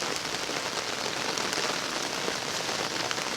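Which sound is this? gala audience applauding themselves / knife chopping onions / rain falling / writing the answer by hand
rain falling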